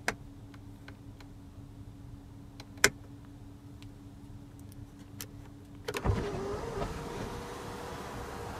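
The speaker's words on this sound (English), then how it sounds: "The panoramic sunroof can be tilted up for ventilation or slide open for an open air feeling." The panoramic sunroof motor of a 2015 Audi Q7 S Line whirs into motion after a few faint cabin clicks, a soft, steady electric hum inside the car.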